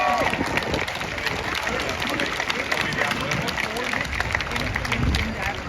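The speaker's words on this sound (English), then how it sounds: "So how about a round of applause for the organisers?" Crowd applause for the organisers at an outdoor animal rights protest in London, a steady wash of clapping and murmuring voices that carries on evenly throughout, with chatter mixed in.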